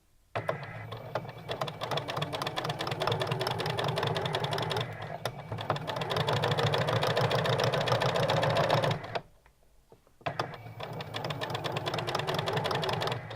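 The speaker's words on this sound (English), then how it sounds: "your sewing machine, the feed dogs, are going to want to move the fabric" A sewing machine stitches fabric for bunting in a steady, close mechanical whir with rapid needle clatter, pausing once for about a second before running again.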